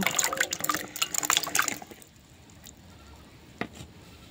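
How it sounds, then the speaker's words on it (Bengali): Potatoes are swished and splashed in water for a couple of seconds of close, busy sloshing, then the water falls quiet except for one small drip or clink. "এবার আলুগুলোকেও আমি ধুয়ে নেব।"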